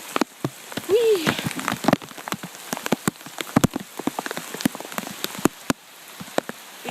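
Rain falling outdoors on a wet day, with dense close patter of raindrops hitting surfaces, sharp individual drops standing out, and a brief faint vocal squeal early on.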